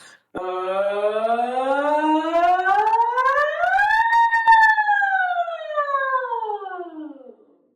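A single voice imitates a siren, sliding smoothly upward from low to high pitch, then gliding back down in one continuous, loud sweep.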